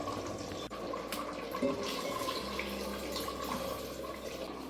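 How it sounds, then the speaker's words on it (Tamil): Water poured from a glass into a pressure cooker of rice for chicken biryani, a steady close splashing and trickling fill lasting several seconds with no talk. "இப்போ நான் வந்து 2 கிளாஸ் தண்ணி ஆட் பண்ணிவிட்டு குக்கரை மூடி வச்சிடலாம்."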